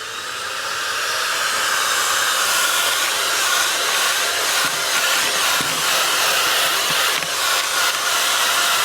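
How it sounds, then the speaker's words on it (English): A JISULIFE Ultra2 portable handheld fan spins up and runs with a loud, steady airy whir and hiss close to the listener, holding a constant tone with slight fluctuations and no speech. "It's not just a fan to keep you cool out in the sun."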